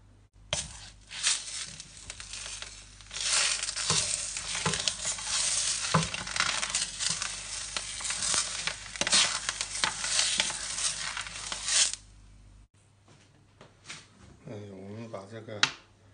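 Skin-on pork belly sears in a very hot wok to singe off leftover hairs, making a loud crackling sizzle with scraping and stirring that runs for about twelve seconds before cutting to a quieter passage with a voice near the end.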